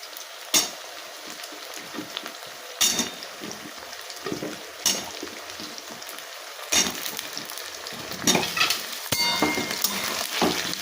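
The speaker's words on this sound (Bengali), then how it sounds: "পেঁয়াজটা আমার হালকা একটু ভাজা হয়েছে এবার আমি আলুগুলোকে দিয়ে দেবো" Onions sizzling and frying in a pan as potatoes are added, with a steady crackle, several sharp bursts and spatters, and occasional stirring and clinks of utensil against pan throughout.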